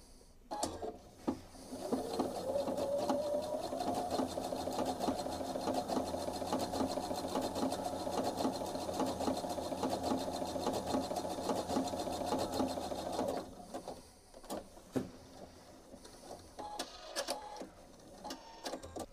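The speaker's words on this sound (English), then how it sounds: "so that we can sew along the waist edge inside the hem and just catching the front of the fabric" A sewing machine with a blind hem presser foot stitches a hem along a fabric fold, a steady, continuous mechanical whirring for about thirteen seconds before it stops and a few quieter handling clicks follow.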